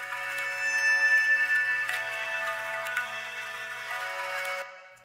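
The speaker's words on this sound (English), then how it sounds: "So our two string elements and the organic texture from the intro sound like this." Two layered synth string parts blend with a crackly organic texture, giving a dense shimmering sustained chord sprinkled with soft ticks and transients before cutting off abruptly near the end.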